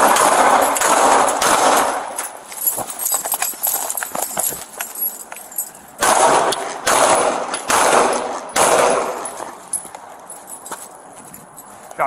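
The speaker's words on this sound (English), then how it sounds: "Shots fired." Gunshots ring out during a police encounter with an armed burglary suspect in a residential driveway, sharp close reports mixed with sudden commotion and loud, frantic voices.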